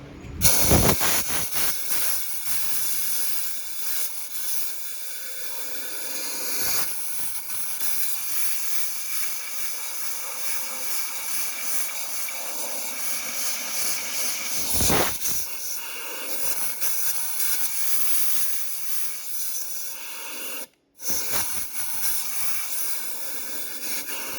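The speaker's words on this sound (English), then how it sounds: "Let me fire up the compressor and jam some air in there and see if anything comes out of it." An air compressor blows air through a part of a 1984 Can Am MX 250 engine, giving a loud, steady, broadband hiss that runs almost unbroken, with one brief cutoff near the end.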